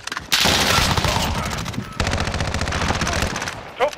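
Loud, close automatic gunfire from Call of Duty: Modern Warfare crackles in rapid sustained bursts, pauses briefly, then resumes in another long rattling volley before cutting off.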